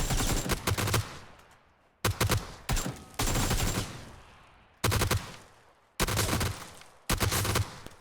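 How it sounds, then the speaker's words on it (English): Video game gunfire from a bot shooting at a half wall: repeated bursts of rapid automatic shots, each about a second long and separated by short pauses, loud and close with no talking. "So at first he just tries to shoot through the half wall"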